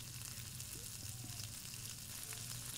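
Vegetables with turmeric and coriander powder stirred in a pan, a continuous soft sizzle of frying with faint stirring scrapes underneath, close and steady, no voice.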